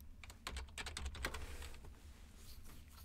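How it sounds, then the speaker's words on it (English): A computer keyboard clicks close by as someone types pseudocode during a lecture. The keystrokes come in a quick, fairly faint run that thins out toward the end. "So let's type our pseudocode here."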